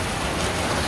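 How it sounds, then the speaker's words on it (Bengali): Heavy rain pours down steadily in Mirzapur, a dense, continuous broadband hiss with no pauses, loud and close throughout. "খুব বৃষ্টি"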